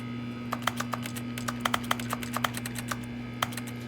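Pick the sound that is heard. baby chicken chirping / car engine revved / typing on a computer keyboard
typing on a computer keyboard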